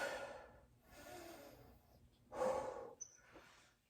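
Slow, deliberate breaths during a relaxation break in a home workout, with a long inhale and a sharper exhale, heard close and alone.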